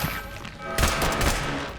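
Video game gunfire: after a moment of quieter background noise, a sudden loud burst of rapid shots rattles on close and continuous until the end.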